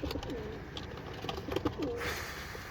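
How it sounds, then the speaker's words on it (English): Pigeons cooing in baskets, several soft low coos repeating close by under a faint high background hiss, with no talking. "I have about 40 pigeons"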